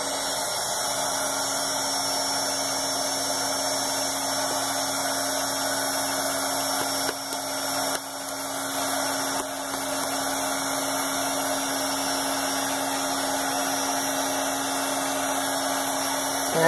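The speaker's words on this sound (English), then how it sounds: "I'm going to put my heat gun on so I can have it heated up." A heat gun running nonstop at close range, a steady blowing whir with a constant motor hum, briefly dipping once before carrying on evenly.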